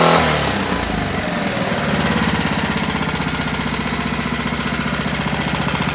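A Briggs and Stratton 5 hp outboard motor with no rev limiter runs at speed, a loud, close, rapid chugging drone that stays steady after a brief rise at the start.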